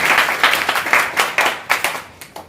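A classroom-style training meeting audience breaks into loud, close applause. Bursts of sharp claps come in an uneven rhythm and fade toward the end, with no talking.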